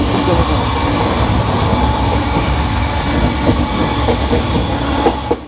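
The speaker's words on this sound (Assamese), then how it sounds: "এখন অকল বন্দে ভাৰত গৈ আছে ট্ৰেইন চাওক" A Vande Bharat train rolls past close by, its steady rumble and rhythmic clickety-clack of wheels continuing loudly throughout with no voices.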